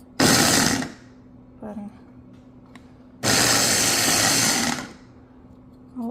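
A Hamilton Beach 3-cup Stack & Press 350-watt food chopper chopping onions, two loud whirring motor bursts, one short and one longer, separated by quiet with brief speech between.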